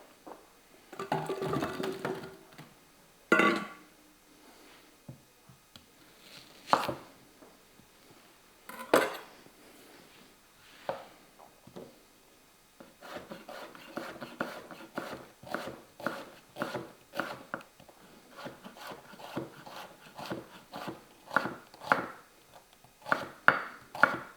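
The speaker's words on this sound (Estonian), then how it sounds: "nüüd tükeldame sibula" Onion being chopped with a sharp knife on a cutting board. Sparse knocks come first, then a long run of quick, steady blade taps, all close and clear with no talking.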